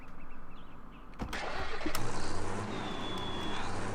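1960s tractor engine in a Farming Simulator 2013 mod cranking briefly, then catching and settling into a rough, pulsing idle, close and moderately loud.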